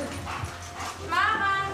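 A dog gives short barks and a high whimpering whine, close by, overlapping with people talking.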